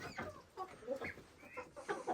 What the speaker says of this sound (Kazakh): Қазір бұлар уже менде қырқылдап бастап жатыр.